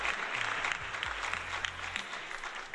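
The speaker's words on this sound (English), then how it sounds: "Please, so much applause." A burst of steady, dense clapping from a crowd fills the whole short stretch at an even level, with a faint low hum underneath.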